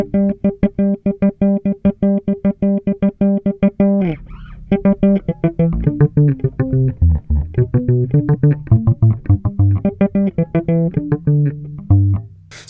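Bass notes plucked quickly in African thumb-and-finger technique, a steady, rapid pattern alternating thumb and finger attacks, played alone with clear ringing tones.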